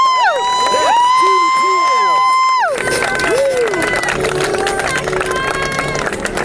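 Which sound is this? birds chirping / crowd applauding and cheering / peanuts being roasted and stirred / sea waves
crowd applauding and cheering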